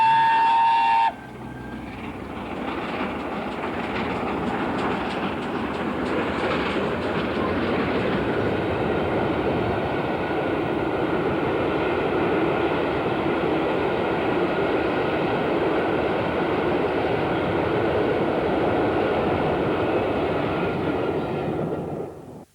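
The steam locomotive Mallard pulls out of York station on an anniversary tour, its train rumbling heavily and continuously with wheel clatter rising to a loud, sustained roar close by.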